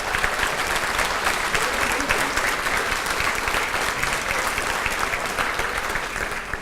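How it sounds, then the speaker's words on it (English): An audience at a 2016 State of the City address applauds the new police chief, sustained dense clapping from a large crowd that stays strong and even for several seconds. "he got more applause than I did"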